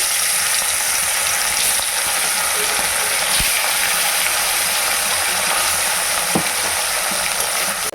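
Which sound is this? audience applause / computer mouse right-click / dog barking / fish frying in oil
fish frying in oil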